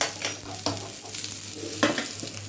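Onions, cashews, almonds and coconut powder frying in a pan for chicken chillu garey, a soft continuous sizzle with occasional stirring scrapes and spoon clinks against the pan.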